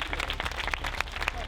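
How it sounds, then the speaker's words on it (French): A film crew claps during a shoot's making-of: brief, scattered applause from a small group, close and moderately loud, with voices mixed in. "Et applaudissons."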